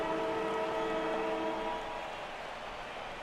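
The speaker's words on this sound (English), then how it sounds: "Just waiting for the opening siren now." Opening siren at an AFL football match in the AFL Evolution video game, Geelong Cats versus Sydney Swans: a loud steady tonal blast that fades partway through into crowd hum.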